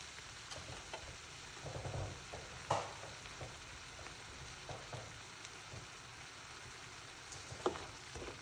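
Food sizzling and frying steadily in a pan while being stirred, with soft scraping and clinks, close and fairly quiet, no talking.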